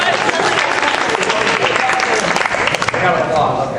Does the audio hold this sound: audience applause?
yes